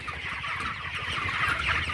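Broiler chickens on a raised-floor poultry farm, about twenty-four days old, cluck continuously in a busy, close chorus of overlapping short calls.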